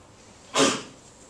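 A single short, sharp sneeze bursts out mid-clip, loud and close, against near silence.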